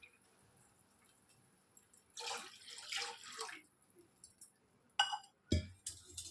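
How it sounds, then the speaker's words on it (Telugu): Two glasses of water are poured into a pan for egg semiya upma, making a splashing gush for about a second and a half, followed by a few sharp clinks of glass or metal against the pan. "చూడండి 2 గ్లాసులు వేస్తున్నాను."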